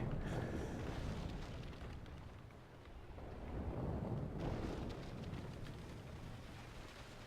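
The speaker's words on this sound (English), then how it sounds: "Darn, I was hoping I'd catch Tau with those shots" Ship cannon broadsides roar in the naval combat game Naval Action, a deep continuous rumbling barrage of overlapping booms that swells and fades, loud and full, with no talk over it.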